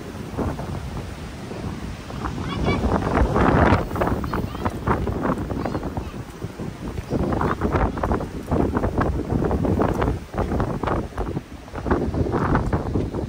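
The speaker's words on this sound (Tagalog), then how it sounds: "Malakas din guys yung hangin." Strong spring wind buffets and roars across the microphone in continuous gusts in New Zealand, with faint voices partly buried beneath the rushing noise.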